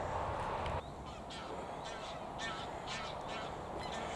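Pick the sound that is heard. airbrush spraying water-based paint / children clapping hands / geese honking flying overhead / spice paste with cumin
geese honking flying overhead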